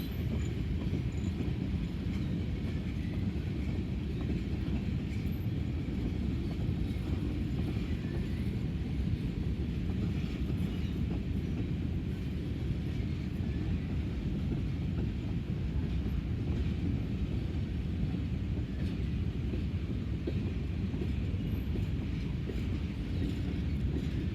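A slow freight train of boxcars rolls past in Greenwich, Ohio, a constant low rumble and rattle of wheels on track that stays loud and unbroken throughout.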